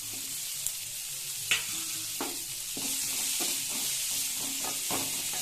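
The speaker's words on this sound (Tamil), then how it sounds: "வணங்கினதுக்கு அப்புறம் வெண்டைக்காவை போட்டுக்கலாம்" Okra is sautéed in a pan with softened onion and tomato, giving a steady close sizzle broken by repeated stirring scrapes and spoon knocks, and no talk is heard.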